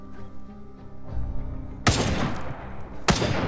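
Gunfire in the video game The Front, two loud close blasts with short crackling tails, the second about a second after the first, following a quieter stretch of low rumble and game tones.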